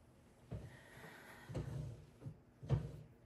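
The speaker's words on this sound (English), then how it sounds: "I'm just shutting the door from the dog." A house door pushed shut to keep a dog out, a few dull wooden knocks and a final firm thud at close range in a quiet room, with faint rustling between.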